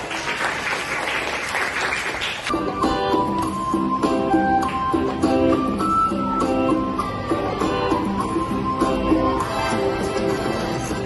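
Grade 6 students clapping together in a classroom, a sustained burst of loud, dense applause that swells after a short stretch of noise and continues steadily to the end.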